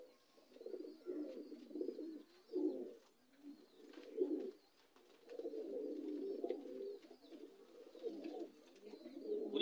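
Racing pigeon coos in a cage, a close series of soft, throaty bubbling coos in uneven bursts, repeating through the whole stretch with faint chirps in the background and no talk.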